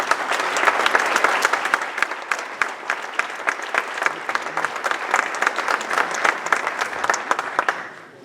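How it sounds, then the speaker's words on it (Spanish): A conference audience applauds with sustained, dense clapping that holds steady for several seconds before tapering off at the end. "Un aplauso para Jorge Suárez"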